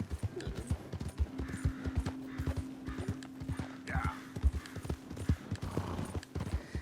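Steady rhythmic horse hoofbeats in the video game Red Dead Redemption 2 clip-clop along at a trot, with a faint low hum beneath and a brief horse snort partway through.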